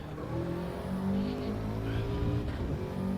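A race car circuit-racing on track drones steadily and loudly up close, its engine note holding through a hard braking zone with slight rises as it revs back up.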